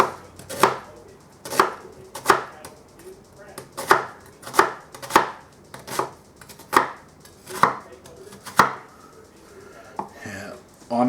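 A knife chops onions on a cutting board in an unhurried, even rhythm of about a dozen crisp, close thuds, each followed by a short pause.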